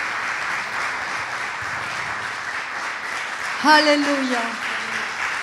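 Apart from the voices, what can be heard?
audience applause for God at church sermon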